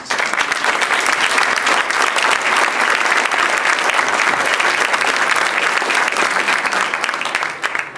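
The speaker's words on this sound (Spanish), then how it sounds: "Igualmente pido un aplauso para ellos." Auditorium crowd applauding at the 15th anniversary ceremony of the Quintana Roo Electoral Tribunal, a loud, sustained roar of many hands clapping without pause, tapering slightly at the very end.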